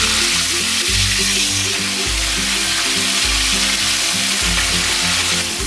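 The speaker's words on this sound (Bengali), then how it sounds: "বেগুনগুলো আমি হালকা করে জাস্ট ভেজে নেব তেলের মধ্যে" Eggplant pieces and nigella seeds fry in hot oil, giving a loud, steady sizzle that runs without a break and with no voices.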